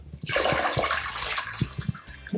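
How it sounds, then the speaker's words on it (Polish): Tap water pours steadily into a cooking pot holding raw chicken breast for homemade lean cold cuts, a loud continuous splashing rush with soft low thumps underneath. "Wrzucamy ją do garka i zalewamy e, wodą."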